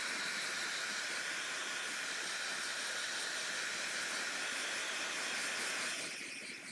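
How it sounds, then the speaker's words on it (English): A blow dryer runs steadily while drying paint on a Scrooge McDuck painting, a continuous close airy hiss that holds at an even level, then eases off and fades slightly in the last second. "And blow dryer."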